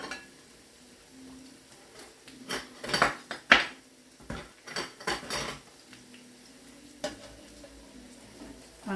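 Food sizzles quietly in a home kitchen pan while a utensil scrapes and clanks against it in several quick bursts during flipping, with short pauses between.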